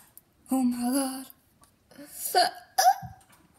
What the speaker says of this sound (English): Sorry for the hiccups.